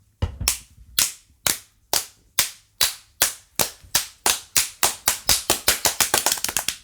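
People clap and slap their legs in a podcast room, starting as a slow, even series of sharp, loud smacks that steadily quicken into a rapid burst, with no talking over them.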